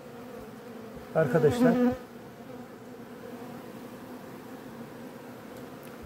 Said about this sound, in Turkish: burada da yürüyen arılar var